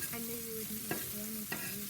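Coarsely cut onions frying on a soapstone slab on a Big Joe grill: a steady low sizzle with soft stirring scrapes and a few faint clicks, close and even throughout.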